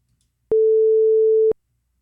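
Pure sine-wave test tone, a single steady pitch lasting one second between clean starts and stops, with silence on either side.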